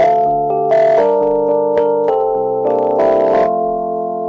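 Sustained keyboard chords played with the lows and highs cut by an equalizer, leaving a thin, midrange-only tone; several chord changes ring out clearly and alone, with no voices.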